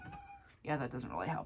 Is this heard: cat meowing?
yes